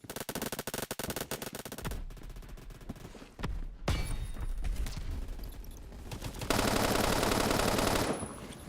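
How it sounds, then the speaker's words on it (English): Gunfire rattles in the first-person shooter game Phantom Forces: rapid automatic bursts, then a dense, loud, continuous barrage with short gaps between volleys, close and harsh, with no talk over it. "I had to shoot him because I saw his leg sticking through."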